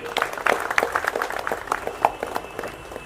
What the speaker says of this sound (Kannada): ಚಪ್ಪಾಳೆ ಮುಖಾಂತರ ಸ್ವಾಗತವನ್ನು ಬಯಸಲಿಕ್ಕೆ ಇಚ್ಛೆ ಪಡ್ತೀನಿ